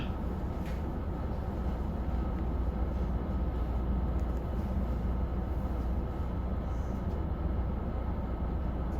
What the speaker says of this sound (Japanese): 安全の確認が取れましたので運転再開いたします。